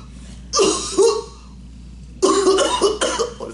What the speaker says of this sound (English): Oh, it's a real cough.